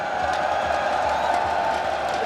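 A packed arena crowd at the PGL Major Antwerp Counter-Strike tournament roars and cheers for the host, a dense, loud and sustained wall of whoops and shouts.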